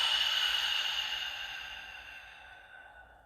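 A long, deep exhale during a guided breathing exercise, a soft airy breath out that starts fairly full and gradually fades away over about three seconds, heard up close with no talking.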